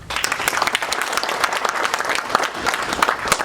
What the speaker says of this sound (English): We're gonna start off with big round of applause.